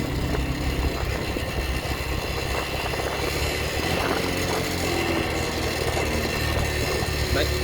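A trainee rider's motorcycle engine, held in the wrong gear, drones steadily and evenly throughout, with voices talking over it.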